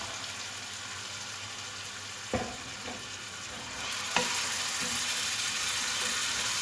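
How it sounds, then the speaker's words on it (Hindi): Black chickpeas fry in roasted spice masala in a pan, a steady close sizzle with a couple of sharp scraping knocks as they are stirred, and no talking. "चने डाल के इसको फिर भूनना है।"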